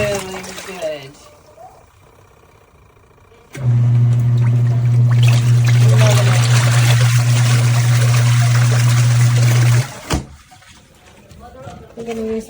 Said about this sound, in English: we've set up the hose that puts in the water there